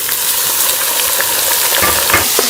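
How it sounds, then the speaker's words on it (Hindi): Beef fries with browned onions in a pan, producing a loud, dense, continuous sizzle with occasional stirring scrapes, close up and alone. "कलर चेंज होने तक प्याज के साथ भून लेंगे।"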